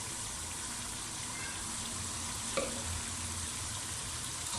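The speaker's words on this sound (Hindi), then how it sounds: "अब हम इसे मज़ीद 2 से 3 मिनट के लिए भूनेंगे।" Blended onion paste sizzles steadily in a hot pan for mutton korma, a constant close crackle with one brief clink of a utensil partway through.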